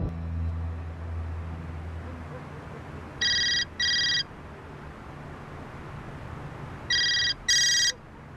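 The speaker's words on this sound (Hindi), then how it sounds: "अल्लाह अल्लाह, दुर्मुशी क्या वक्त है फोन करने का?" A phone rings with an electronic ringtone in a scene from the Turkish TV drama Vermem Seni Ellere, two short double bursts of bright tones several seconds apart, over a low indoor hum.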